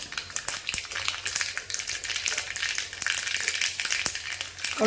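Mustard seeds and fenugreek sizzling in hot oil, a dense crackling hiss with frequent small pops, heard up close without any speech.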